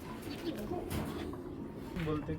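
Large racer pigeons coo in soft, low bursts close by, with a voice speaking over the birds.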